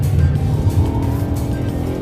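A 2010 Audi RS5 engine pulls hard at full throttle, a loud steady drone with a deep low growl and a continuous tire and road roar, with no talk.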